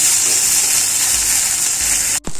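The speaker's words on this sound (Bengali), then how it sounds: "একটু পোড়া পোড়া করে ভেজে নিতে হবে" Garlic sizzling in hot oil until slightly burnt, a continuous loud hissing fry that cuts off abruptly near the end with a brief clunk.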